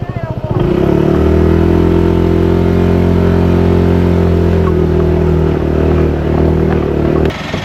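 A small motorbike engine drones loudly and steadily, laboring at a strained pitch up a steep hill in Phuket, Thailand, for several seconds before cutting off.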